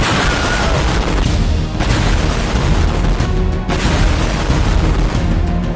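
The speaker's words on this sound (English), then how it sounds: "I'm gonna see if this city can survive a giant explosion" A giant explosion in a brick-built city in a video game gives a loud, continuous rumbling blast with crashing debris. The roar stays dense throughout, easing only briefly twice.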